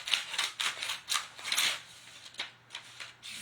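Scissors snip through a piece of craft material for a baby Jesus bed, a run of close, crisp cuts in quick irregular rhythm with brief pauses between strokes.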